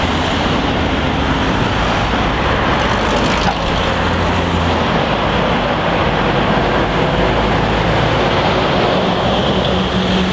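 A sugar beet truck drives past in busy roadway traffic near Newark on Trent on a cloudy December day, a loud continuous rumbling roar of heavy vehicles close by with no talking.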